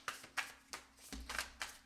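A tarot deck is shuffled by hand in a quiet room, with soft, close riffling and a few separate flurries of card slaps over barely two seconds.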